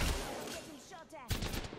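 Short bursts of gunfire in the video game Apex Legends, a sharp volley at the start and another about a second later, with faint game noise between.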